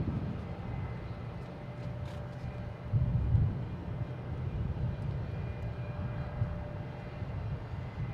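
An Alaska Airlines jet in oneworld special livery arrives at Boston Logan, about 1.5 miles out, its steady low engine rumble distant and continuous with a brief swell partway through.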